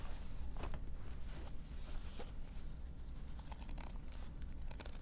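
Scissors trimming the seam allowance from a sewn Christmas stocking lining, a run of close, crisp snips and fabric rustles over steady background noise, with no talk.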